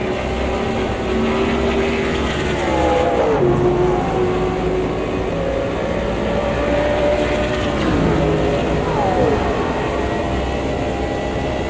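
A Lamborghini race car engine in the racing game Automobilista 2 drones steadily and loudly, its pitch dipping and rising with gear changes and corners, holding a continuous engine roar throughout.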